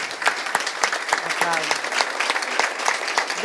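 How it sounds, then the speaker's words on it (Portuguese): An audience at an academic talk on feminism and democracy applauds with a busy, fairly even patter of many hands, and a voice briefly speaks partway through the clapping. "por favor, aplausos."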